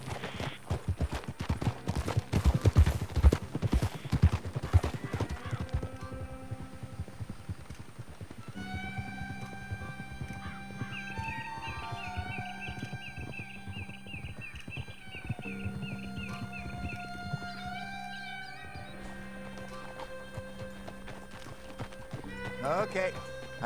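A horse clip-clops along in Red Dead Redemption 2, with a whinny early on, mixed with game music and voices; the hoofbeats are loudest and busiest in the first several seconds, then fade under a sustained musical score.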